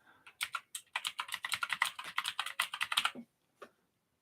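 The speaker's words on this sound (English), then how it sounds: "Keyboard, the typing." Fingers typing on a computer keyboard, a quick run of close, crisp key clicks in an uneven rhythm that stops briefly and ends with one last tap.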